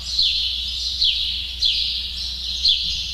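Repeated high-pitched bird chirps, four or five bright calls in quick succession, fairly close and loud, with no talking.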